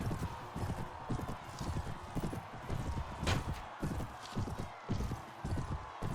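Horse hooves clip-clop in a steady rapid rhythm throughout a medieval battle in the Prophesy of Pendor game, with a brief whinny-like cry near the middle over busy combat noise.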